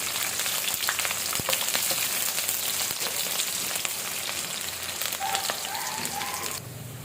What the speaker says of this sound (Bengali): এখন দিয়ে দিলাম পেঁয়াজ রসুন, 3 কোয়া রসুন আর 2টা বড় বড় পেঁয়াজ। একটু ভেজে নিতে হবে।